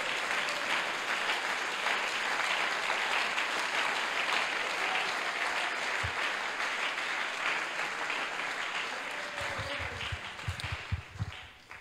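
Church congregation applauding in praise, a dense, steady wash of clapping filling the hall for several seconds, thinning toward the end as a few louder low thumps and scattered sounds break through.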